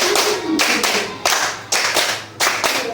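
A group of schoolchildren claps in a counted classroom clap game, crisp handclaps falling in a steady repeated pattern of bursts with short pauses between them, close and distinct.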